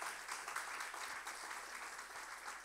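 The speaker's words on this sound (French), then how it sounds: "Est-ce qu'on peut les applaudir?" Applause from a church congregation welcoming newcomers, a steady, even patter of many hands filling the room at moderate distance, sustained without a break and with no voices.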